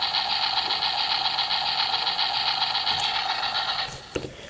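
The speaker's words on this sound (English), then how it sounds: "like Silverbolt, you only get the machine gun sound" A Transformers Universe Powerglide toy plays its electronic machine gun sound effect from a push button, a loud, steady, buzzing tone that runs for about four seconds and then cuts off, followed by a couple of faint clicks.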